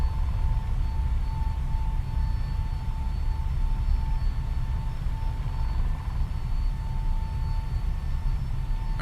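Steady, loud engine drone and low rumble from an FS Labs A321neo airliner climbing after takeoff in a flight simulator game, a continuous vibration with a faint tonal hum above it and no talking.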